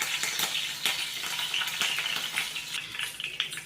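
Curry leaves sizzling and crackling in hot oil with cumin seeds, a steady close frying hiss broken by sharp pops and a few spoon clinks.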